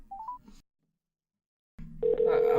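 A telephone call is placed to a hotline. A few quick dialing tones sound, a pause of silence follows, and then a steady ringing tone plays against background noise.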